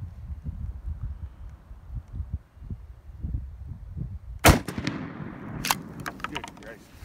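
A 12 gauge shotgun loaded with Apex ammunition fires one loud, sharp blast outdoors, followed by a second crack and fading echoes, after a stretch of low wind and handling noise.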